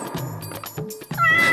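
A cat meows several times in quick succession, close and fairly loud, with short tonal calls separated by brief gaps and a longer, rising meow at the end.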